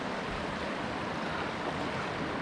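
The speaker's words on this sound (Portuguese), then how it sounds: "Tá muito bravo esse rio hoje." Rough, fast-flowing river water rushes in a dense, steady roar close by, a continuous hiss with no pauses and no voices.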